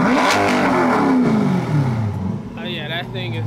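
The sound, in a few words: Chevy C8 revving with new loud exhaust system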